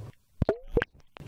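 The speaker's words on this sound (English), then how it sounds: "Now I'm splashing the mic right at the surface." Hydrophone splashed right at the water surface, giving a few quick, close plops and sloshes in a short burst with brief gaps between them.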